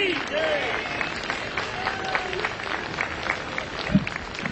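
An audience at a community stage event claps to welcome women performers, a steady patter of applause under an amplified announcer's voice.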